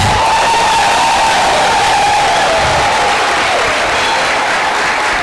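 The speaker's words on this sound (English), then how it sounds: "call upon the stage with a warm round of applause, Miss Lerato Letele" Loud crowd applause and cheering as a speaker is welcomed onto the stage at a youth program campus opening, with continuous clapping, whoops and shouts filling the whole stretch.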